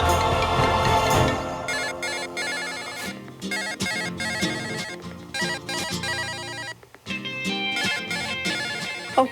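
A telephone rings steadily with a repeating electronic ringtone pattern, loud and close, running through the whole stretch with no talk over it.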